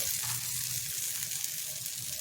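Ragi uthappa batter spread thick on a hot oiled pan gives a steady, hissing sizzle that stays even and moderately loud throughout the short moment.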